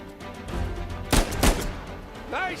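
Gunfire in the video game Uncharted 4 gives two sharp, loud shots about a third of a second apart, over game ambience, followed by a brief voice-like sound.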